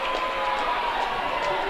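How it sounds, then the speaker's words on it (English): A dense crowd roar from a cheering squad at a Moriah boys' high school basketball quarterfinal, steady and loud throughout with voices blending into a continuous wash. "I think the cheering squad's a little fired up now"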